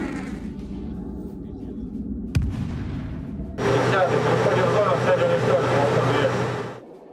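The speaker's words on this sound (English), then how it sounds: "manages to launch a surface-to-air missile, destroying just 1 target" A surface-to-air missile launches against incoming HIMARS rockets: a sharp thump, then a loud, sustained rushing roar lasting about three seconds before cutting off, over a rumbling background.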